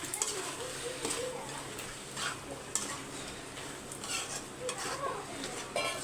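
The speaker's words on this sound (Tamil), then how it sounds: "இதை கொஞ்சமாக கரம் மசாலா போட்டுட்டு மிக்ஸ் பண்ணி விட்டுருங்க" Garam masala being stirred into a pan of Madurai mutton curry, with a steady soft sizzle and scraping spoon strokes against the pot, a few sharper clinks, close and continuous throughout.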